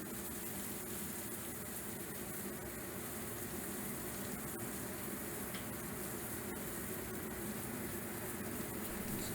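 A steak sizzles in foaming fat in a pan, giving a steady, dense crackling hiss with no talk over it.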